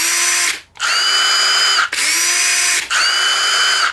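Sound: DeWalt cordless drill running at speed 2

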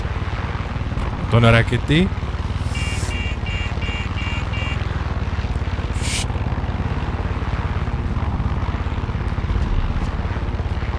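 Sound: helicopter in the video game Far Cry 6

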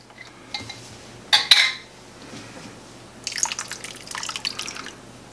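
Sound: tomato juice being poured into soup pot

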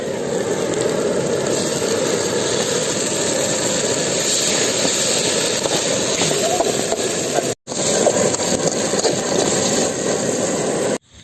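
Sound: newly bought stove being lit and roaring

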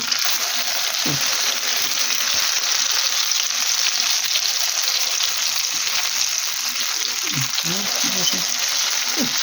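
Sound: vegetable fritters frying in pan

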